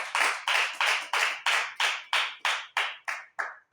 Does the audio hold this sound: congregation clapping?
yes